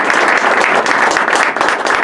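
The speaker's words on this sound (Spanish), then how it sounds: "Un aplauso para nuestro Cónsul General del Perú." An audience applauds the Consul General of Peru at an evening event, a loud, continuous burst of many hands clapping throughout.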